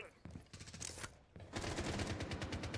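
Gunfire in the video game Rainbow Six Siege: a few scattered shots give way to a fast, sustained burst of automatic fire that fills the second half of the clip, loud and close.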